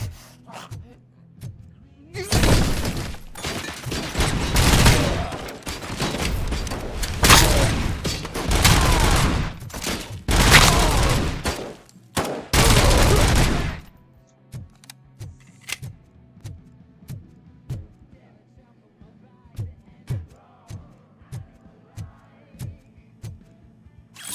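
Dense, loud bursts of gunfire in RoboCop: Rogue City fill the first half, with short pauses between volleys, then give way to quieter scattered clicks and footsteps.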